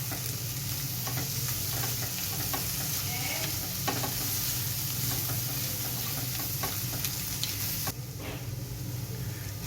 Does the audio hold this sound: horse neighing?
no